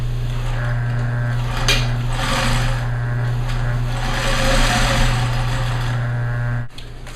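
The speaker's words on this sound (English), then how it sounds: "I'm just going to run a line of stitching along its edge." A sewing machine runs a line of stitching along a stiffener inside a MOLLE bottle holder, a steady close motor hum with rapid needle chatter that cuts off abruptly near the end.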